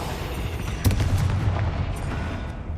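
A Confringo fire spell blasts in the video game Hogwarts Legacy, producing a sharp burst followed by a rumbling, crackling boom that fades over a couple of seconds.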